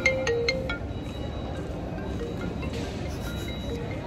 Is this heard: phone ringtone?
yes